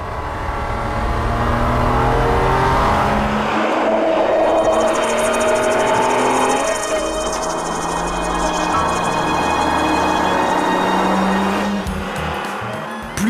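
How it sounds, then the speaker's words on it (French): A Peugeot 907 concept car's V12 engine revs and accelerates through the gears, loud and steady, with intake trumpet sound, tire noise and the pitch rising and falling across shifts. "Un bolide à vivre au son des trompettes d'admission"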